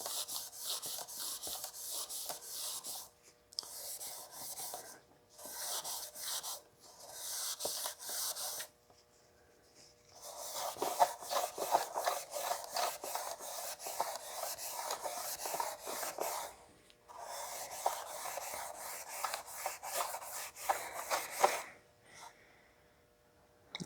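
Scotch-Brite pad rubbed against brushed metal on a custom headlight for a 1940 Ford-inspired hardtop coupe, fixing stray scratches in the grain; close, scratchy strokes come in short bursts, then a longer steady run of rapid back-and-forth rubbing.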